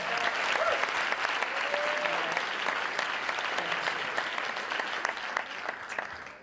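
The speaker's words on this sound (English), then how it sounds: "can you give Sarah a round of applause for that wonderful" An audience at a Stanford evening event applauds with dense, sustained clapping that holds steady and then slowly fades, with no voices standing out above it.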